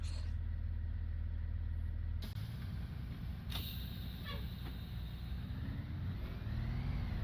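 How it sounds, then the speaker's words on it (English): A bus engine idles steadily in Roblox, a continuous low drone with a brief shift partway through and a faint rising whine near the end, no talk over it. "A little cinematic view of the bus here."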